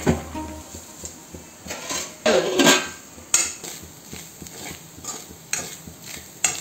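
A spoon stirs grated coconut roasting in a pan, scraping and knocking against the metal in irregular close strokes over a soft sizzle, with one louder burst of scraping partway through; no one speaks.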